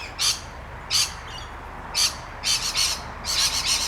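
Sharp, shrill bird calls in short bursts: a few evenly spaced squawks, then quicker clusters of calls near the end, fairly close.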